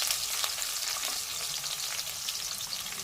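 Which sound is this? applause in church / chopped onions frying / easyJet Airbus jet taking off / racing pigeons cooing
chopped onions frying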